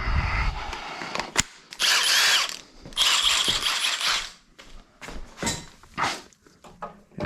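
A small battery impact wrench removing bolts from a Jeep ZJ front bumper, giving several loud hammering bursts of rattling with short pauses between them in a close workshop setting.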